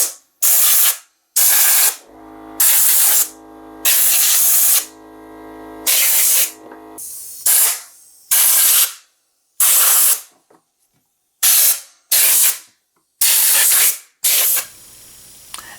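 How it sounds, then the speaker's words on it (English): Compressed air blasted in repeated short bursts into an electric wall heater to clear dust, about a dozen loud, close hissing sprays separated by brief pauses, one burst carrying a humming tone, no voices. "So you generally want to hold this fan in place while you're blowing the air."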